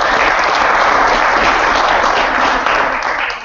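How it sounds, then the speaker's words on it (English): An audience at a Team Achieve bootcamp training event gives Ambit a round of applause, loud dense clapping filling a few seconds and easing off at the close. "Let's give Ambit a round of applause."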